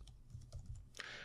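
Fingers type on a computer keyboard while entering a variable name in math software, giving quick soft key clicks at an uneven pace, close and quiet, ending in one louder key strike.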